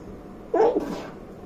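A single short sneeze at home at night, close and fairly loud, alone against a quiet room.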